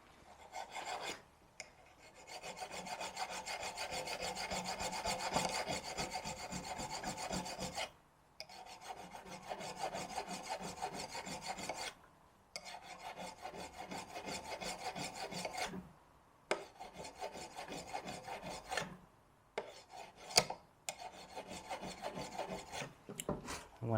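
A steel chisel being sharpened and cleaned up by hand, long rhythmic rasping strokes in repeated bursts separated by short pauses, close and steady.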